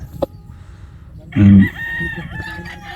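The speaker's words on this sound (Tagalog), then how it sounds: "Yan po yung mga manok." Gamefarm chickens call around a rooster that lets out one loud, close crow in the middle, with fainter clucks and a brief sharp call before it.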